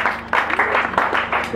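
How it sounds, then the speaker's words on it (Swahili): A church congregation claps for Jesus in short, uneven bursts of applause, fairly loud and close, with faint voices and a low hum underneath. "Makofi kwa Yesu."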